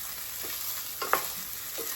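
Garlic butter chicken sizzles steadily in a hot pan, a constant hiss with a few soft pops and crackles.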